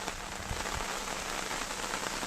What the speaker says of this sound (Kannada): ಅಷ್ಟೊಂದು ದೊಡ್ಡ ಪ್ರಮಾಣದಲ್ಲಿ ಮಳೆ ಸುರಿತಾ ಇದೆ.